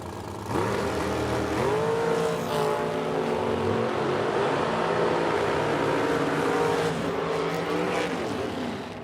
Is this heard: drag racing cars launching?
yes